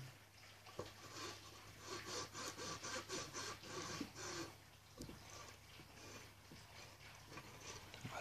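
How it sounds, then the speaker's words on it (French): Scrubbing and rubbing to clean parts of a terrarium, a rhythmic rasping scrape repeated in steady strokes, fairly close but quiet, easing into softer irregular rubbing toward the end, with no talking. "Bien frotter, nettoyer."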